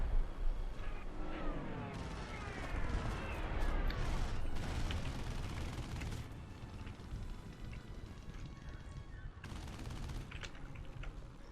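Gunfire from enemy aircraft in War Thunder's April Fools 2021 Tailspin event: dense, sustained rattling bursts with engine roar throughout, loudest early on and continuing steadily for about eleven seconds.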